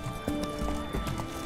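Roach the horse galloping in the video game The Witcher 3, with rapid hoofbeats and a brief whinny, loud and close over a steady background bed.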